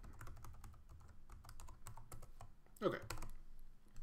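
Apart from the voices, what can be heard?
typing on a computer keyboard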